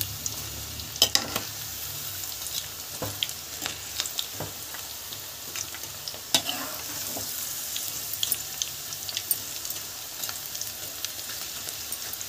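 Pakoda fry in hot oil with a steady crackling sizzle, while sharp scrapes and clicks of a stirring spoon break in now and then, close and with no talking.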